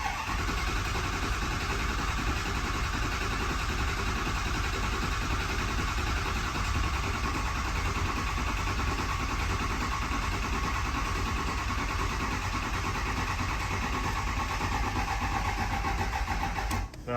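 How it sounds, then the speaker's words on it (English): A Ford 6.0 Powerstroke diesel cranks over slowly in a crank-no-start condition with its fuel system full of air, a loud, continuous, even churning that runs unbroken and then cuts off abruptly, with no talking. "So we're going to do a little bit of cranking, I'm sure, to start it"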